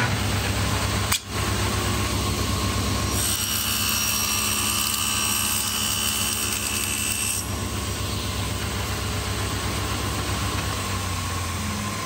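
A table saw blade cuts aluminum over a constant motor drone, adding a brighter, harsher whine for a few seconds in the middle before settling back to the steady running hum.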